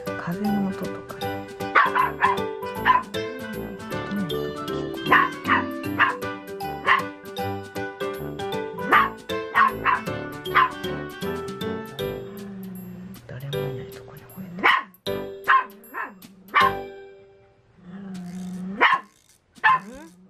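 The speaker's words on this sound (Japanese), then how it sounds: "どこに吠えてる？" A black poodle barks and yips repeatedly at close range, with sharp, irregular bursts, some in quick runs and others spaced by short pauses, over about twenty seconds.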